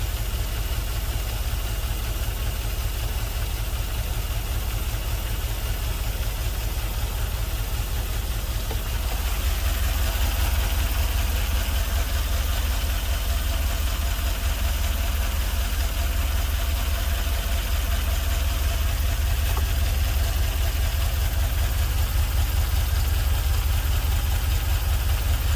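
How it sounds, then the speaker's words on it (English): An LS-swapped GMC Vandura van idles roughly on five cylinders with a couple of injectors not firing, a steady loud low rumble that thickens partway through and continues alone. "It's only running on 5 cylinders. Looks like a couple of the injectors aren't firing."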